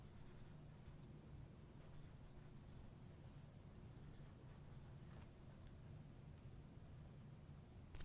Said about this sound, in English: this is just a pencil I'm using